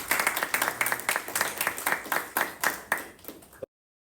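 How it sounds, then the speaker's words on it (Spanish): Audience applause for a keynote speaker at a world artificial intelligence forum in Medellín, rhythmic unison clapping at a steady beat, fairly faint, stopping abruptly. "Vamos a dar un fuerte aplauso."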